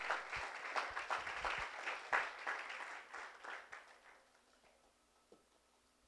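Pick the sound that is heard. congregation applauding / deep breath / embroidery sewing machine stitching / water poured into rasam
congregation applauding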